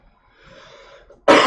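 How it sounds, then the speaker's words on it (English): A quiet throaty murmur leads into one abrupt, loud cough at the very end, close to the microphone and cut off mid-burst. "Pardon me, I have a cough."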